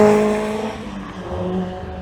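Race cars, including Super Impressors, roar past at Goodwood Motor Circuit, engine noise fading and swelling with a faint tire squeal, fairly loud and continuous.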